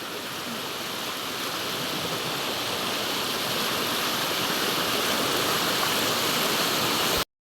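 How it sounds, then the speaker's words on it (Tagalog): Water in a swollen stream rushes steadily as it is waded across on foot, a dense broadband wash with no talk, stopping abruptly at the end. "tayo po itatawid na sa sapa. Malaki po ngayon ang sapa."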